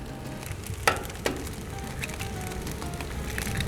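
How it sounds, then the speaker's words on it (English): Scrambled eggs frying on a Blackstone griddle, a steady broad sizzle with two sharp clicks or taps near the start, nearby and moderately loud. "So just frying up a couple eggs, scrambled eggs"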